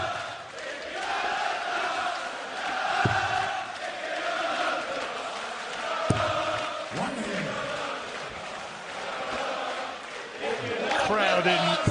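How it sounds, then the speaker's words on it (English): Darts crowd at the 2017 Masters semi-final in the arena, a steady roar of cheering voices and chatter filling the whole clip, with a few sharper shouts and bangs rising above the din. "Crowd in really celebratory mood tonight."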